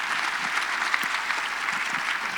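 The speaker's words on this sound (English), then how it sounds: "another round of applause for all our co-hosts, all our speakers, and yourselves" Sustained audience applause closes a digital public infrastructure summit plenary, a dense even wash of many hands clapping at steady level throughout with no voices on top.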